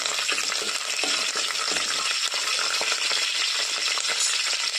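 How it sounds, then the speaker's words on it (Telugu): Tempering spices and curry leaves sizzle and crackle in hot oil as they are stirred in a pan, a close, steady frying hiss with light scraping throughout. "కొద్దిగా పోపు దినుసులు, కరివేపాకు వేసుకొని ఒకసారి అలా కలుపుకున్నాము."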